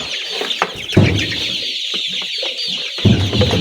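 Layer chicks cluck busily inside their poultry house, with short overlapping calls and peeps coming in quick, uneven bursts at close range and no talk.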